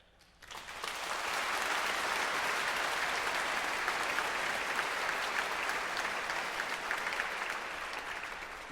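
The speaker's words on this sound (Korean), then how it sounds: "지휘자님께서 한마디 하실 때마다 무조건 박수가 나올 수밖에 없을 것 같아요" After a brief quiet moment, an audience at an orchestral concert in Lotte Concert Hall bursts into loud, sustained applause that continues evenly to the end.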